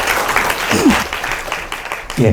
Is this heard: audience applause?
yes